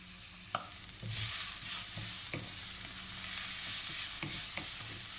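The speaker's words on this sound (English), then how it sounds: "So let these fry down for 5-6 minutes, and then it's next step time." Onions frying and lightly caramelising in a pan while a curry is being made, giving a steady close sizzle punctuated by a few soft stirring scrapes and clicks.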